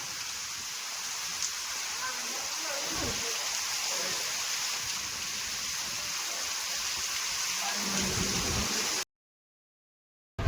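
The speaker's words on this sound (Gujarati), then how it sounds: "વરસાદની બાકાજીકી બોલાવી દીધી છે।" Heavy monsoon rain falls on a village after dark, making a dense, continuous hiss that fills the scene at an even level before cutting out abruptly near the end.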